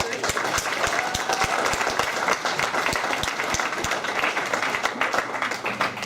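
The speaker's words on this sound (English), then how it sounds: "a round of applause for Red Tie Arts" Steady audience applause at a Valentine's concert, dense continuous clapping from a crowd filling the room without a break.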